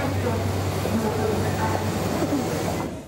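A London Underground train rumbles loudly through the station, a dense roaring rush with a steady low drone that fades away near the end.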